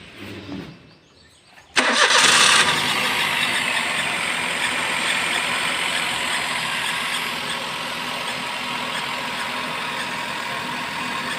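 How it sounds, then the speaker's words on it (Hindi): A car engine cranks and fires up after a short quiet stretch, then settles into a steady, loud idle that runs to the end, with a brief squeal right at startup. The work is a sensor voltage check on the running car. "और अब मैं गाड़ी को स्टार्ट करता हूं।"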